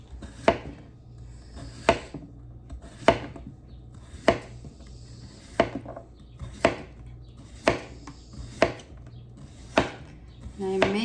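A knife slices cucumbers thin on a cutting board, giving about ten sharp, evenly spaced chops, close and crisp, with brief pauses between strokes in a quiet kitchen.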